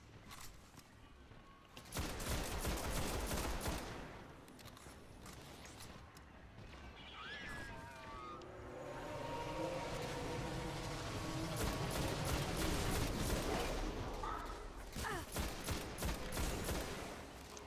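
Gunfire in Destiny during the Vault of Glass raid on Venus, with a scout rifle among the weapons: rapid crackling volleys of shots and the din of combat, loud and continuous, with mechanical effects layered in.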